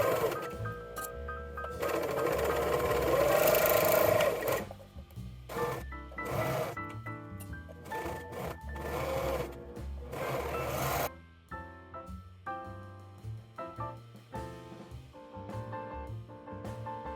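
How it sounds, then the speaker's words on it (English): Overlocker serger stitching the shoulder and side seams of a cotton-style frock, close whirring runs of rapid machine rasp broken by short pauses and handling sounds, with music playing underneath. "overlock the shoulder seams and the side seams"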